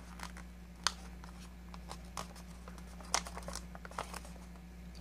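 Paper is folded and creased by hand into an origami raincoat, giving soft intermittent crinkles and crisp snaps over a steady low hum, with no voice.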